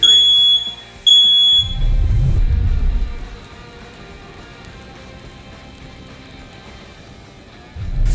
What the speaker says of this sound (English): Smoke detector disagrees.